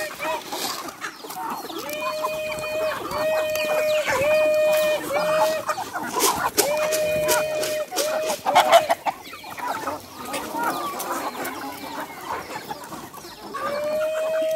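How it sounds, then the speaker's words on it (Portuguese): Free-range chickens being fed corn cluck and call repeatedly in a rhythmic series of bright, close clucks, with a rooster-like crow and scattered pecking and scratching noises around them, while a person talks faintly in the background. "Olha só o tanto de galinha caipira."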